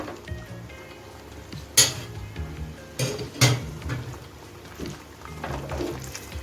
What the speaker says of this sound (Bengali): ডিমটাকে মশলার সঙ্গে মিশিয়ে নিচ্ছি